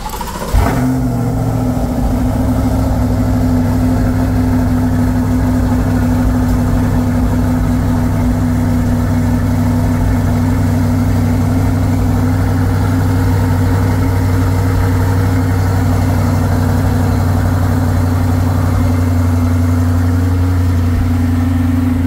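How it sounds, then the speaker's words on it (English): A 2023 Chevrolet Corvette C8 Stingray's stock exhaust idles steadily with a deep, even rumble close to the pipes, after a brief start at the beginning, continuing unchanged. "here is the stock exhaust without the MPP"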